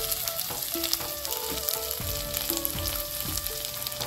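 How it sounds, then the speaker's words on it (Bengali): Spice pastes of ground dried chilli with salt frying in a pan, a steady close sizzle with stirring scrapes and clinks throughout, no talk. "সব কিছু ভালো করে ভেজে নিব।"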